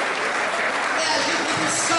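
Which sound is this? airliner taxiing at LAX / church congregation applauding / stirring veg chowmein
church congregation applauding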